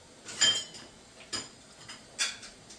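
A metal pot clinks three times at about one-second intervals as meat is heated with spaghetti sauce, sharp close taps over a quiet kitchen background.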